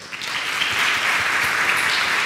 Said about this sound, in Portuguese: vamos bater uma salva de palmas aí pro Guilherme